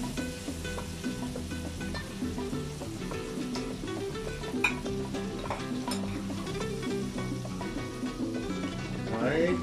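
A frying pan of sizzling broad beans and squid in ink sauce is stirred and shifted, with faint scraping and clinks over a steady low frying hiss. Light clatter rises toward the end.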